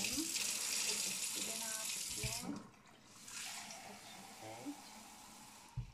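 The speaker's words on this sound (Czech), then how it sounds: "Teď si tam dáme trochu vlažné vody." Lukewarm water runs from a tap into a bowl of seeds, caraway and salt for sourdough bread dough, a steady hiss that stops midway, then a softer flow resumes amid kitchen clatter.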